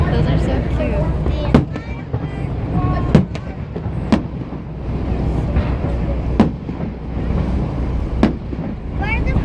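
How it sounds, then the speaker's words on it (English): Fireworks exploding at night over Niagara Falls, heard from a boat: sharp booming bursts at irregular intervals over a constant low rumble of falls and engine, with people chatting throughout. "Where are the fireworks coming from?"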